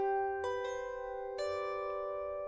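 A lyre plays a short measure with a grace note: several soft plucked notes in quick succession, each ringing with a clear, bell-like sustain, quiet and alone.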